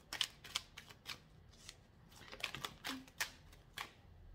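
Tarot cards being shuffled: soft, quiet papery riffles and snaps repeating in short bursts about every half second, close by.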